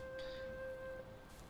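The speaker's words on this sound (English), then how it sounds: "It's still raining, eh?" Steady rain pattering in the Valheim game world, a soft continuous hiss with faint drop textures and a low tonal game hum underneath, quiet and even throughout.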